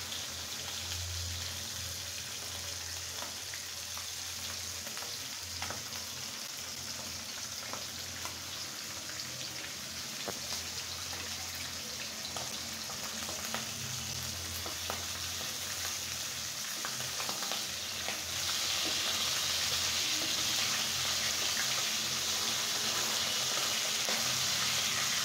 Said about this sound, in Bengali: আমি খুব সুন্দর করে লাল লাল করে ফ্রাই করে নেব।